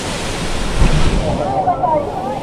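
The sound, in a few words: waterfall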